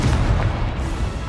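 Confringo spell blast in Hogwarts Legacy, a loud, rumbling explosive boom that fills the whole moment with dense low roar and no talk.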